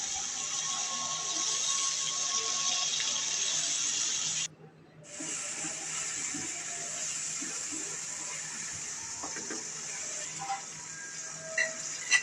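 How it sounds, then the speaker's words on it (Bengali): Washed lentils frying with ground spices and a bay leaf in a pan for a Bengali dal bhuna with egg, giving a steady close sizzle and hiss that cuts out briefly, then resumes with a few small pops and clinks. "ডালটাকে এবার মশলাটার সাথে একটু কষিয়ে নেব।"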